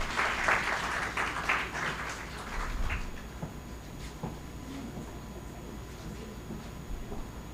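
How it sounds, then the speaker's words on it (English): Audience applause in a hall during the valedictory session of a technology conference at a national institute in Delhi, a moderate crowd clapping steadily before tapering into lighter scattered claps. "I request the audience to kindly give a huge round of applause."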